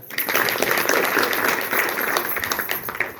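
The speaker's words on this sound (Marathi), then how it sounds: "टाळ्या वाजवा." Audience applause at a Warkari literary council ceremony in Shiur village, where bhajan group members receive appointment letters: a steady, dense wash of many hands clapping that holds at an even level for about three seconds.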